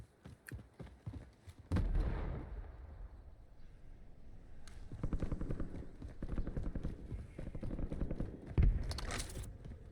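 Gunfire in the battle royale game Warzone, solo mode: a series of sharp, loud bursts and single shots, some near and some farther off, with rumbling impacts between them.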